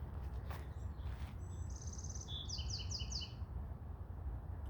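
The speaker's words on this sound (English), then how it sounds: "Birds singing." Several birds sing in a planted hedge forest on a cool morning, with short high chirps and a few trilled phrases over a steady background hiss at a moderate distance.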